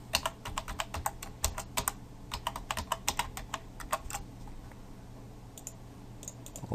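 Fingers type a password on a computer keyboard, a quick run of close, crisp key clicks in irregular bursts, then a pause and a few final taps.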